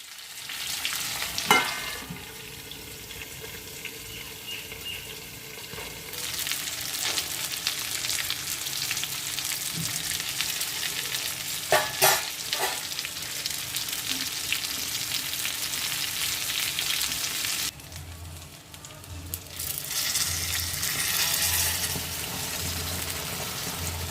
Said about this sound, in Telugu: అదే బాణట్లో నూనె పోసి ఇప్పుడు ఈ వంకాయలు దాంట్లో వేస్తున్నాను